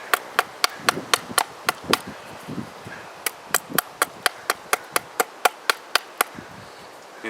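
Outdoors at a campsite, wood is being carved or chopped to make a tent stake: a steady series of about two dozen sharp, evenly spaced knocks, close and distinct, with gusty wind underneath.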